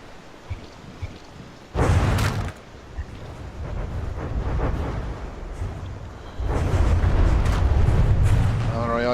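A tank shell strikes in a video game and a turret explodes with a loud, noisy blast, followed by rumbling debris and a second sustained roaring burst near the end.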